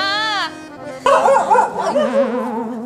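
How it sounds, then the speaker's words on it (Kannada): A dog barks and gives whining, yelping cries close by, in loud bursts that rise and fall. "ನಾಯಿ ಬಗಳ್ತಿದ್ದತ್ತೆ"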